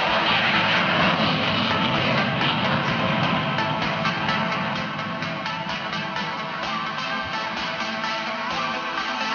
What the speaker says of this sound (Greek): επιδεικνύει την ικανότητα του F-16 να πετάει σε χαμηλό ύψος και με μεγάλη ταχύτητα